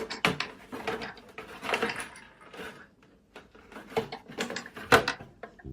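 Plastic back cover panel of a KRUPS coffee machine being worked loose and slid off, a run of close knocks, scrapes and clicks with brief pauses between them.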